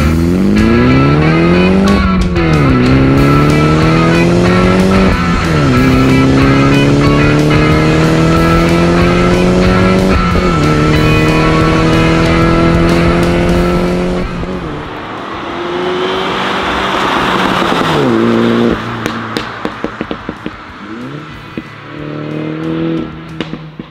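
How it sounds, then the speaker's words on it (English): A loud car engine revving through repeated gear shifts on a canyon road, exhaust roaring and rising in pitch, then popping and crackling like gunfire as it lifts off, with reverberant echoes. "This is the nice thing about this exhaust. It has some really cool echoes."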